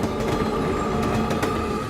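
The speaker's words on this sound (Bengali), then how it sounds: "Train থামেনি, train থামেনি।" A moving train rumbles steadily with a continuous, dense roar and faint rhythmic rail clatter, no voices present.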